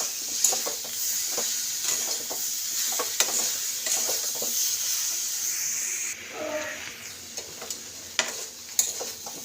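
Raw tomato stir-fried in a pan for a cauliflower and soya chunk curry: a continuous sizzle with frequent spatula scrapes and taps, close by. The frying hiss drops partway through while stirring clicks continue.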